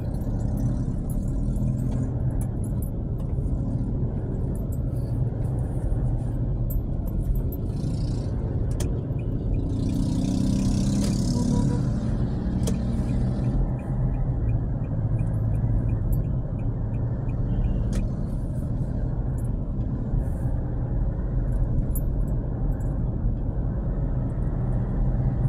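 A car driving along EDSA highway produces a steady low engine and road rumble, with a few faint clicks and a brief hiss of passing traffic partway through.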